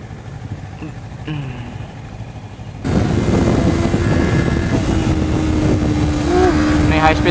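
A Honda CBR250RR motorcycle sweeps through a high-speed corner. Its steady, high engine whine sits under heavy wind roar that swells sharply partway through, and a rider talks over it.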